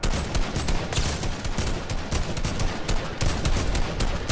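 Dense, continuous video-game gunfire, rapid automatic bursts and overlapping shots that stay loud and unbroken throughout, with no talking.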